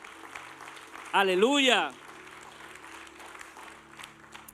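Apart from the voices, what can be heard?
church congregation applauding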